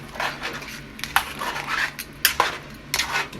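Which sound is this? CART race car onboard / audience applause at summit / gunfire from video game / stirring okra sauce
stirring okra sauce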